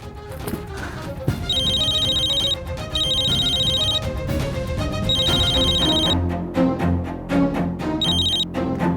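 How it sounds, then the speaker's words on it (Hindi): A mobile phone ringtone plays loudly, a bright repeating electronic melody in several bursts with short gaps. "माँ का फोन बजा, जरूर पापा का फोन होगा।"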